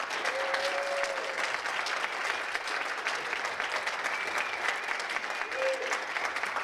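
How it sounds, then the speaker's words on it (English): An audience at a chamber of commerce annual awards gala gives a warm round of applause, steady, full clapping filling the room throughout, with a few faint voices mixed in. "I ask you now to give York Furrier a great round of applause."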